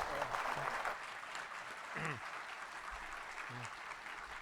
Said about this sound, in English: let's please have a round of applause for our panel.